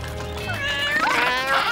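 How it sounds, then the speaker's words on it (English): Cartoon cats meowing in a snowy PAW Patrol scene, a few drawn-out, wavering mews close up and moderately loud over faint background music. "fish-loving kitties"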